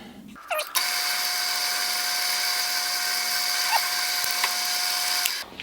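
A small drill bit bores a starter hole in a metal throttle cable swivel, a steady high-pitched whine running about five seconds close to the microphone, starting and stopping abruptly.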